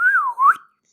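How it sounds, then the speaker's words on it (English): A single person's whistle, a clear rising and falling two-part tone lasting about half a second, loud and close, then silence. "Somehow I can whistle."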